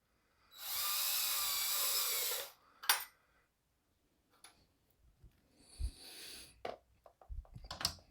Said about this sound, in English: Now you're going to take your drill and you're going to make a drill hole right on your mark